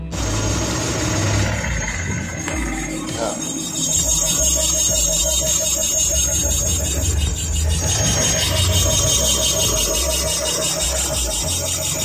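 The faulty motor of an Ola S1 Air electric scooter whines loud and steady at close range, a sustained tonal hum with a high squealing edge that shifts in pitch partway through.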